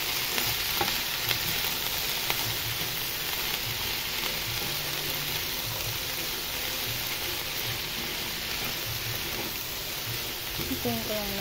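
Water spinach (kangkong) hissing and sizzling steadily in a hot pan while cooking adobong kangkong with tofu, a continuous frying crackle with faint stirring, and a voice talking over it.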